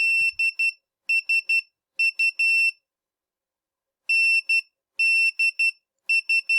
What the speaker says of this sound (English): I've got the little buzzer beeping out NDSU in Morse code.